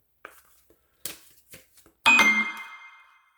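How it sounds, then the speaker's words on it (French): A series of faint clicks and taps gives way to a sudden bright, ringing bell-like beep that fades over about a second, loud and close, with no voices. "Désolée pour le bip-bip."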